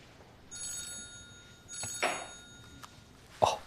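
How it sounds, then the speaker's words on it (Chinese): A telephone rings indoors at a dinner gathering, with several short bursts of ringing separated by pauses, moderately faint and heard alone without talk. "哦，接个电话"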